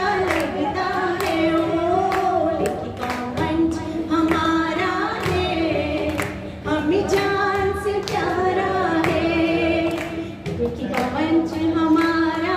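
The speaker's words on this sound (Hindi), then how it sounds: "आप तालियां बजाओगे कब तक" An audience at a writers' forum event in a press club claps in scattered, uneven bursts under ongoing voices and music-like tones throughout.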